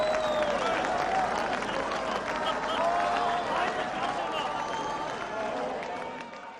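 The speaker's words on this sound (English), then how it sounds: "West Berliners had come to the border and they were applauding us" A crowd of West Berliners applauds at the Berlin border crossing in 1989, continuous dense clapping and cheering from many people, with voices throughout and the noise slowly easing at the end.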